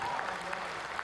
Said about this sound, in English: Hansen and Podmore get the crowd on their feet.